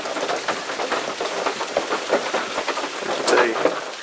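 Steady rain drums on the roof and walls of a hunting shooting house, a dense, close patter with brief louder splats, heard alone without talk.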